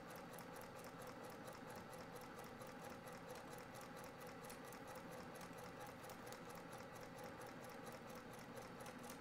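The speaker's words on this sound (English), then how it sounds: "use a tiny stitch length and sew right on the line" A sewing machine stitches a quilted table runner with a tiny stitch length, giving a quiet, continuous whirring hum with a fast regular needle rhythm that runs unbroken throughout.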